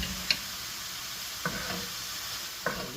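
About a tablespoon of garlic sizzles in a hot pan, a soft continuous hiss with three light clicks of a utensil spaced about a second apart, close and quiet, with no voices.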